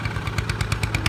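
A tractor engine hauling about 150 maunds of rice along a rough, bumpy rural track, chugging close and loud with a fast, steady rhythmic thump and rattling clatter and no voices.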